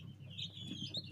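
Newly hatched chicks peeping inside a plastic mechanical incubator on the 21st day of incubation, a continuous cluster of high, thin chirps close by with a low steady hum of the machine underneath.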